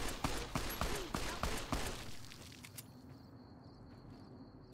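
Gunfire in Fallout New Vegas: a rapid series of sharp shots over the first two seconds, then a quieter stretch with a faint high whine.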